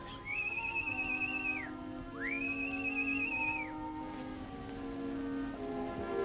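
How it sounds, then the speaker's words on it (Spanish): Two long, sustained whistles sound one after the other, each rising, holding a steady pitch, then falling, over a soft background of music. "¿Oíste? Dos silbidos."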